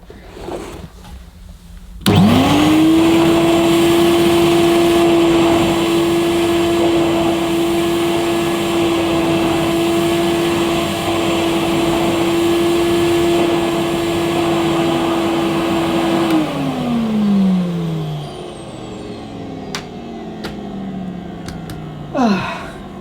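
Hoover Compact S3706 cylinder vacuum cleaner starting up and running at a loud, steady whine for about fifteen seconds, then powering down, with no talk over it.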